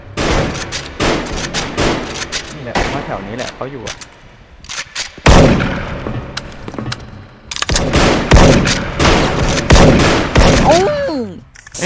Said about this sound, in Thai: เสียงปืนอยู่รอบตัวเต็มไปหมดเลย